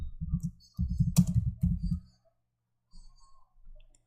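Quick, light keystrokes on a computer keyboard fill two short bursts of close typing, separated by a brief pause, with a few faint clicks after.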